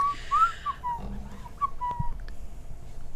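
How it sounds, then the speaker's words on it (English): A person whistles a short wavering tune of a few sliding notes and then a held note, close and fairly clear over quiet background noise, with a soft thump near the end. "I start whistling."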